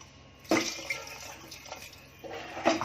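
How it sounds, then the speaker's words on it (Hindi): Water poured into a pressure cooker for cashew curry: two close, gushing splashes about two seconds apart, each fading fast, with no talking over them. "अब इसमें पानी डालूंगी और एक सीटी लूंगी,"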